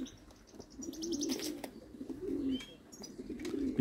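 Pigeons coo outdoors beside their open loft, a steady low cooing repeated throughout, with a few brief chirps and a faint flutter mixed in; no talking.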